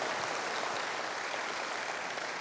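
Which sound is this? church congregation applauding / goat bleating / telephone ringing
church congregation applauding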